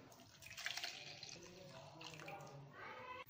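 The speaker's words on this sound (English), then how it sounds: "Now we will add 250 ml of demineralized water to our beaker." Roughly 250 ml of demineralized water is poured into a beaker while glass cleaner is being mixed, making a soft, faint trickle and splash that runs steadily for a few seconds.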